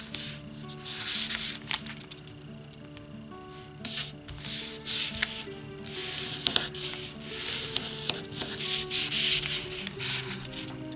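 Origami paper being folded and creased, giving close, intermittent rustling and rubbing swishes with occasional sharp crinkles, heard alone with no talking.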